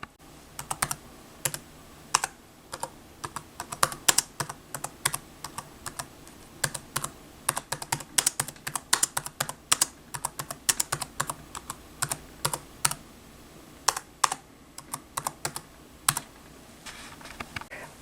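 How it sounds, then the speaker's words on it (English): Steady typing on the solid aluminum-bodied keyboard of a Microsoft Surface Book 2, crisp close key clicks in an irregular, continuous run with no voices. "here's a little clip of me just typing with it."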